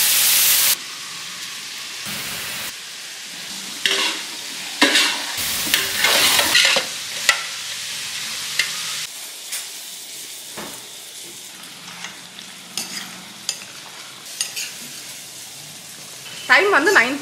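Onions frying in a large pot for biryani, a steady sizzle with stirring scrapes and bursts of louder frying over about seventeen seconds, with faint voices in the background.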